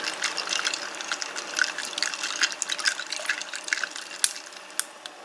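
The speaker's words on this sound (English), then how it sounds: "get the leftover tea bag and you pour in the hot water" Hot water pours into a mug already holding ice cubes and a used tea bag, a faint, steady liquid trickle with a few small clinks and drips near the end.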